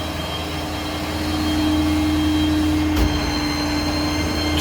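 A wrecker tow truck with its engine running and PTO engaged rolls backward, a steady low mechanical drone with a constant hum that swells slightly, plus a brief sharp knock partway through.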